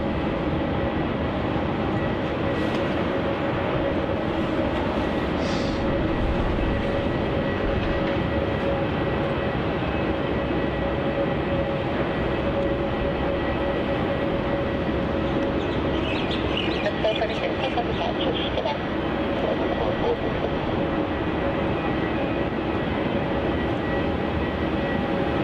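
A Qantas Boeing 737-800 airliner arriving at Melbourne Airport, a steady jet roar from a distance that holds throughout, with radio chatter faintly underneath.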